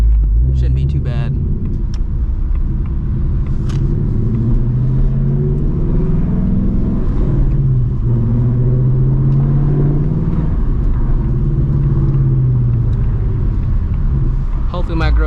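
A 2024 Ford Mustang GT S650 engine drones low and steady while driving in traffic, heard from inside the cabin with continuous rumble and small swells of revving throughout.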